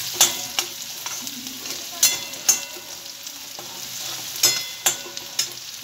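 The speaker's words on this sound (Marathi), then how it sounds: "कांदा लवकर शिजण्यासाठी याच्यामध्ये एक चिमूटभर मीठ टाकायचं नेहमी" Onions sizzling in a pan with a pinch of salt, a steady close hiss punctuated by regular scraping and tapping strokes as they are stirred.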